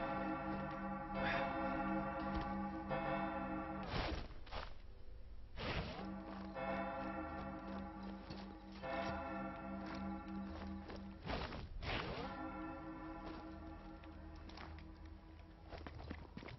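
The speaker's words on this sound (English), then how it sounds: "Sounds pretty funny when you throw something up there and then the church bells start ringing." Church bells ringing in the video game Sniper Elite 4 at a monastery, a faint steady tolling tone under repeated heavy thumping footsteps and clattering game sounds, with no talk.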